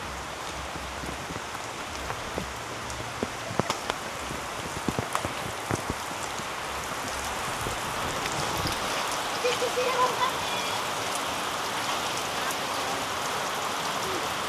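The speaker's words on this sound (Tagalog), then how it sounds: "Super lakas ng ulan." Heavy rain pours steadily onto surfaces outdoors during a rainy-day trip, a dense continuous hiss with scattered sharper drop impacts, with faint voices now and then beneath it.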